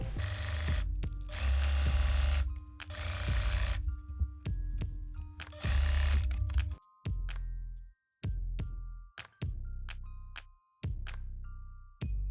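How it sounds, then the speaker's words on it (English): A sewing machine stitches a pinned jumpsuit in bursts, with several loud runs of whirring motor broken by pauses, then a series of short clicks and knocks as the fabric is handled. The sound is close and clear, with no talking. "I have this with pins and I'm going to sew this."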